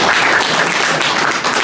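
Brief applause at a boxing press conference, a short steady patter of clapping from a modest crowd.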